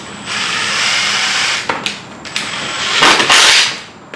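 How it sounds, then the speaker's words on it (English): A power drill drives screws into wainscoting panels, giving a close, loud, sustained whir that stops and starts in short bursts, ending in a higher-pitched final spin. "Drill it in a little bit."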